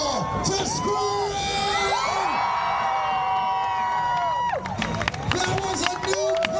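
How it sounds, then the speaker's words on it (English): A crowd at a live extreme-sports show screams and cheers loudly for a high air stunt, with whoops and children's shouts rising and falling across the whole stretch. "If he does, I need you all to scream!"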